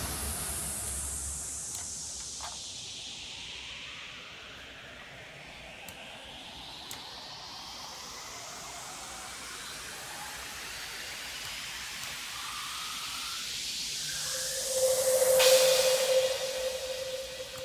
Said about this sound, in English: let's end this loop with a crash. And actually, let's add a riser too, just for demonstration purposes.